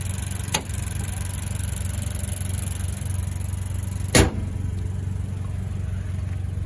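A 2020 Toyota Corolla XS with an upgraded exhaust runs at a steady, moderate hum, with two sharp clicks breaking through the low drone.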